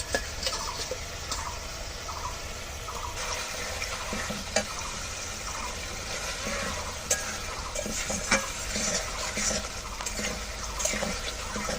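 Potatoes stirred into sizzling spice paste in a pan, a constant frying hiss with intermittent scraping and clinks from the spoon, close and steady with no voices.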